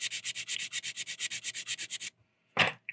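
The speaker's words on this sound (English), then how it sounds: "This area is flat, so I can hit that with a sanding stick." A sanding stick rubs back and forth over a flat resin model part in quick, even strokes, about eight per second, close and crisp, then stops, followed by a single brief louder scrape.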